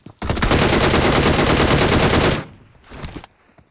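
A loud, close automatic-rifle burst rattles steadily for about two seconds in PUBG Mobile, followed by a shorter, quieter volley.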